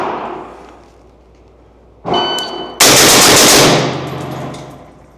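Six rapid pistol shots fired in about a second during a ready-up shooting drill, a loud sharp burst of cracks following a quieter metallic click and bang, with ringing echo trailing off afterward.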